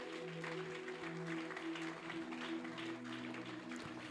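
A church congregation applauds during a Sunday service, steady sustained clapping at moderate volume under a held musical tone.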